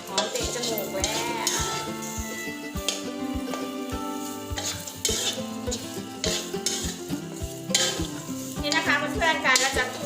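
Thai chilli paste ingredients are stir-roasted in a pan, a steady loud sizzle under constant rhythmic scraping and clacking of a spatula against the pan, close up and without speech.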